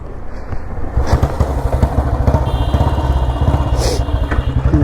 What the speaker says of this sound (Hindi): फिर से चालू करेंगे।